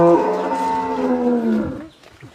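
A cow gives one long, close, clear moo that lasts nearly two seconds and then fades into quiet farmyard background.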